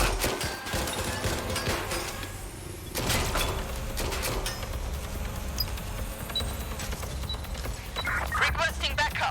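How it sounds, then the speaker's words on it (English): Gunfire in the video game Watch Dogs Legion: scattered sharp bursts and mechanical clicks amid a busy mix of game effects, with voices calling out in between. "This way! Gunfire!"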